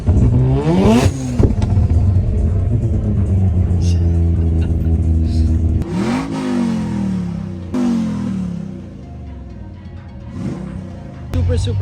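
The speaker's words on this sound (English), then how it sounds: "Can you rev it one last time?" A bagged Ford Mustang at a winter car show revs hard several times nearby, the engine climbing and dropping in loud surges while people talk and shout around it.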